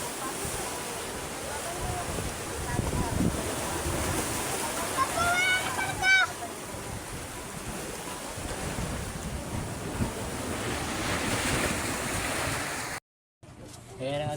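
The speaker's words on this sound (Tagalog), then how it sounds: "oh, may alon, no?" Ocean waves wash against the shore amid gusting wind and heavy microphone buffeting, a continuous rough roar with a short dropout near the end, under faint talk.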